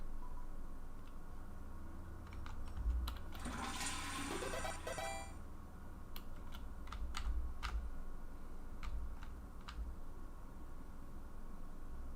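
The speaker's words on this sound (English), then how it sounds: "let's flush the toilet" A toilet flushes in Deltarune, a rushing watery burst around the middle that fades into a gurgle, followed by scattered clicks over a steady low hum.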